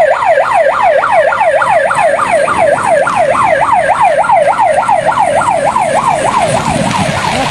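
Fire engines arrive at a burning bus, their sirens wailing in a fast, steady up-and-down yelp that stays loud and close the whole time, with no talking.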